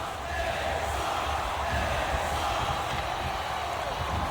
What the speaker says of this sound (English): This crowd sounds like they're about to blow the roof off of the building.